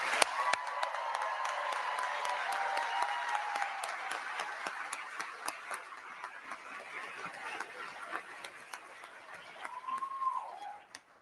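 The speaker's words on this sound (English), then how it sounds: "please join me in giving them another round of applause" Audience applauding newly announced NASA astronaut candidates at a ceremony, a sustained wash of clapping from a large crowd that slowly thins and fades out near the end.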